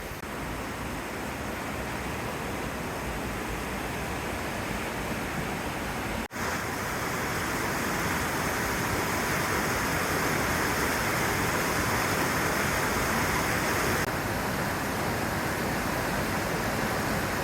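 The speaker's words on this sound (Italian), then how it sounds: "Fammi dare una sciacquata alle mani che fa sempre bene" Water runs steadily from a tap as hands are rinsed, a constant broadband rush with a brief break partway through, close and alone with no talk.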